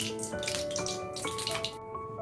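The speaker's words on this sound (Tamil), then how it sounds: "எண்ணெய் ஊற்றிக்கலாம்." Oil poured into a hot kadai makes a faint, continuous liquid pour and sizzle lasting a couple of seconds, with no talking.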